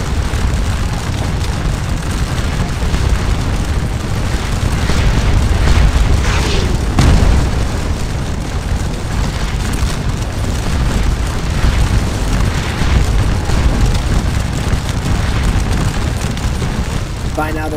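Heavy musket and artillery fire rolls on continuously in a Napoleonic battle in Scourge of War: Waterloo, a dense, loud wall of booms and crackling volleys with no pause from start to finish.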